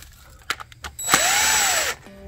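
A power tool drives bolts into engine coil brackets, with a few sharp clicks of handling first, then one loud, steady whirring run of about a second that stops abruptly, leaving a faint hum.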